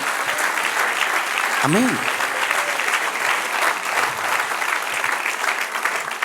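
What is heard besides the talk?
congregation applause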